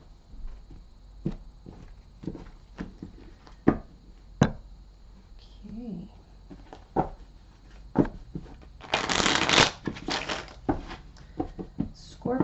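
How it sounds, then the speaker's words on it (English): A deck of cards riffles and shuffles in a quick burst, preceded by soft taps and handling clicks of the deck, close up with brief talking at points. "I do like to shuffle on camera so that you see that I'm not rigging the deck"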